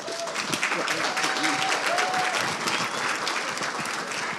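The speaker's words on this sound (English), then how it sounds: "Can you give them a round of applause?" Audience at an awards ceremony breaks into sustained, dense applause, a steady wash of clapping with a few faint whoops over it, lasting the whole moment.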